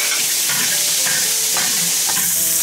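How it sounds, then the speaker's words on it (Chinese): Sausage and cured pork stir-fry in a hot wok with a loud, continuous sizzle and bursts of scraping and tossing, close up and alone. "香肠腊肉先把它炒一下"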